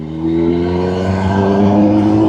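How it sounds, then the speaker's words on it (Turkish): Kawasaki ZX10R sport motorcycle exhaust burbling at low revs during a night ride, a steady close, loud engine drone with strong low harmonics and a slight swell in pitch near the end, no talk over it. "düşük devirlerde egzozun tınısını dinleyip"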